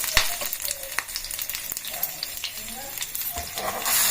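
Coconut pieces frying in a hot pan for a no-grind vada chutney, with a steady close sizzle and crackle broken by occasional stirring clinks and scrapes.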